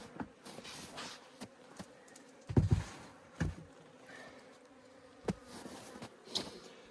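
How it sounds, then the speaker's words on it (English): Honey bees buzz faintly in an open beehive during a patty and fondant feeding, under scattered knocks and thumps from handling the hive. "So you can see quite a few bees in there."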